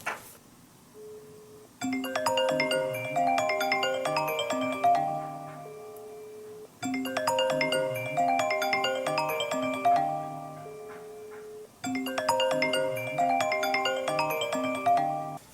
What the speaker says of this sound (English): I will call on this phone.